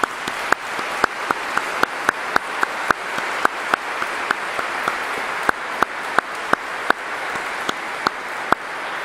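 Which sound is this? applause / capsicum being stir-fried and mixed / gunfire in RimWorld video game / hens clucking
applause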